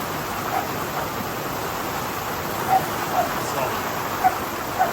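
Steady rain falling at a camping resort in Croatia, an even, dense hiss throughout, with a few faint clicks and small thumps rising above it.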